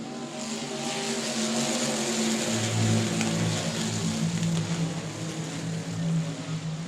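Several short-track race cars at South Texas Speedway roaring together as the field takes the green flag, a loud, dense wall of engine noise with rising harmonic tones from multiple cars accelerating at once, steady throughout.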